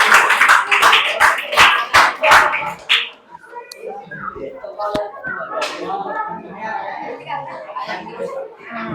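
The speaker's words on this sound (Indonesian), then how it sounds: "Tepuk tangan untuk kelompok 6." Classroom applause for a student group, a burst of loud clapping from many hands over the first three seconds, followed by chuckles, chatter and scattered voices around the room.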